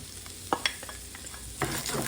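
Onions cooking in a little ground beef fat sizzle in a pan: a continuous hiss with a couple of sharp scraping knocks from a utensil, then a livelier burst of frying near the end.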